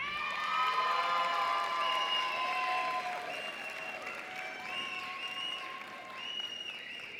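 Crowd at a college commencement ceremony applauds graduates, steady distant clapping mixed with cheers and some shouting, sustained throughout at moderate level.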